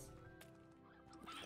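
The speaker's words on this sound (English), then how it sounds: "I can't get to the chickens in time because they keep getting eaten" Chickens cluck in the Slime Rancher video game, a faint cluster of fowl calls over a soft steady game background, with no talk.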